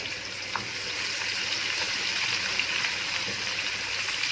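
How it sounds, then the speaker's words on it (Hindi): Onions fry in spiced oil in a pan for a chicken and guar bean curry, giving a steady, moderate hiss and crackle with no break and no talking. "अब हम इसमें डालेंगे प्याज और इसको लाइट पिंक होने तक फ्राई करेंगे।"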